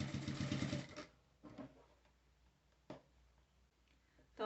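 A sewing machine stitches a fabric bag, a close, rapid mechanical whirring run at the start that stops, followed by quieter intermittent clicks and short bursts.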